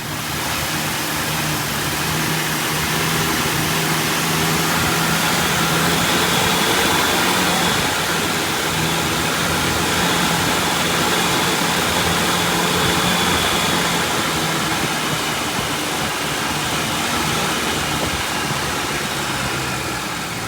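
A primed 1966 Ford Mustang convertible engine idles steadily while warming up, with a continuous, even rumble and broadband noise that stays loud and close for the whole stretch.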